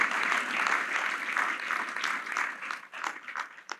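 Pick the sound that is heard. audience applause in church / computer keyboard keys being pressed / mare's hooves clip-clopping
audience applause in church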